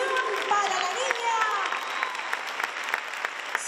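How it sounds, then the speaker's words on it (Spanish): A crowd applauds and cheers for the newly crowned children's carnival queen at the 1960s-themed carnival in San Sebastián de La Gomera, with dense steady clapping, scattered sharp claps and voices mixed through the crowd noise. "De la ovación para la niña"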